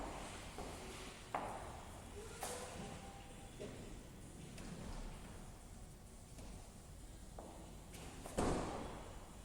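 A car boot is lifted open and then slammed shut, with a few dull thuds and one sharp, loud slam near the end against quiet outdoor background.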